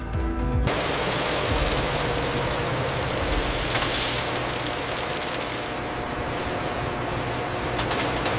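A toothbrush factory's injection molding machine turning plastic pellets into parts hums and whirs loudly and continuously. A sharp change comes early in the stretch, and a steady, dense mechanical roar follows throughout.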